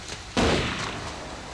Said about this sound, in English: Did she shoot Shannon?